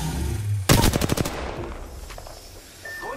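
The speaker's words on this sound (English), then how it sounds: "The enemies are shooting at me." Enemy gunfire in the Apex Legends video game: a sharp burst of rapid automatic shots lasting under a second, loud and close, followed by a fading echo and quieter scattered game sounds.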